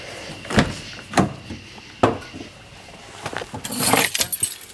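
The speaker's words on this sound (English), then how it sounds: "And I'll get my key out of the car." Car keys jangle and clink in several sharp, close bursts near a pickup truck, spaced roughly half a second to a second apart, followed by a busier rattling flurry toward the end.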